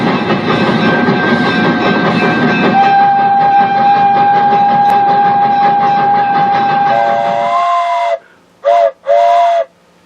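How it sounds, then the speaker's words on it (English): A train whistle sound played back by a smart speaker's Google Assistant, with a loud rumbling train underneath a long sustained whistle tone, then two short separate whistle blasts after the rumble cuts out. "What does a train whistle sound like?"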